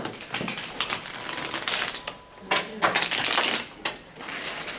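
A deck of playing cards is shuffled and riffled by hand, producing irregular bursts of crisp flapping and clicking, fairly quiet and close, with no talking over it.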